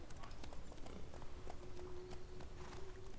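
Horse hooves pounding at a gallop in the video game The Witcher 3, a fast, rhythmic stream of clip-clops at steady loudness with a faint background tone running underneath.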